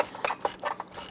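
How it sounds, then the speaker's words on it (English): A 10mm socket ratchet with an extension turns a front bolt behind the alternator on a 2002-2008 Dodge RAM, giving a few quick, close mechanical clicks in about a second. "Using a 10mm socket and extension, we want to go ahead to this front bolt down here."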